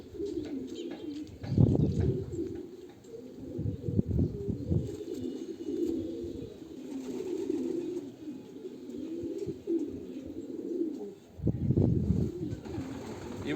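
Racing pigeons coo steadily in a loft, a low continuous murmur of overlapping calls, with louder swells near the start and the end.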